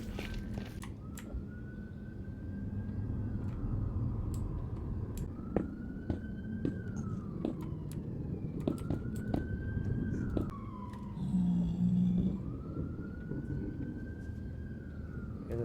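A siren wails in slow rising and falling sweeps, four long cycles over steady background rumble, sounding somewhat distant and moderately loud.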